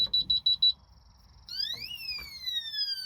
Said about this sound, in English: if you enter the password incorrectly 3 times, the alarm will buzz